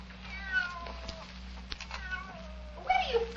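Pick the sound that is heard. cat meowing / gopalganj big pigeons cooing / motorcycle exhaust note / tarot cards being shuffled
cat meowing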